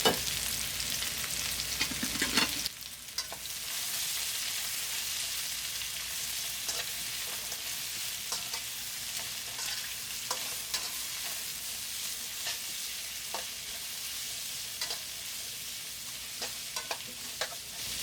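Red, yellow and green capsicum stir-frying for mutton fried rice, a loud burst of sizzling at first, then steady hot crackle with scraping strokes of a spatula stirring throughout.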